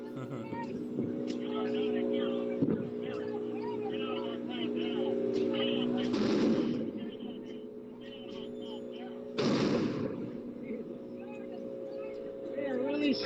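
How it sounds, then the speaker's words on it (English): Fireworks fired at heavily armed federal agents during a nighttime street protest, two loud broadband bursts standing out over a steady engine-like hum and crowd noise. "They are really shooting a lot of fireworks at these heavily armed federal agents"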